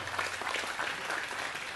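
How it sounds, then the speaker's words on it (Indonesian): Steady audience applause at a lecture hall gathering, dense continuous clapping from many hands, moderately loud and sustained throughout. "tepuk tangan, tepuk tangan"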